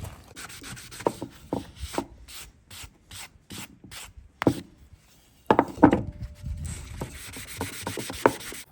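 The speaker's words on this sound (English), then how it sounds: "I'm gonna sand a little bit more, clean it up just a bit more" Sandpaper rubbed back and forth along a wooden hatchet handle in short, uneven strokes, close and fairly loud, with brief pauses between passes and no talking.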